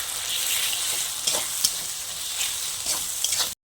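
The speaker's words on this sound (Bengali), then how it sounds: "দিয়ে ভালো করে কষিয়ে নেব।" Kashmiri chili powder and biryani masala spices fry in a pan for an egg biryani, giving a steady, close sizzle with light stirring scrapes throughout.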